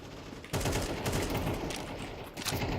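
Rapid bursts of automatic gunfire from a first-person video game shooter, loud and sustained after a brief lull, with sharp cracks repeating in quick succession and rising again near the end.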